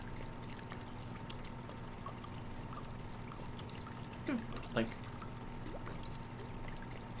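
Liquid poured from a wooden barrel into a bucket in the Project Zomboid video game, a soft continuous trickle beneath a low steady hum, with a couple of brief sharp sounds midway.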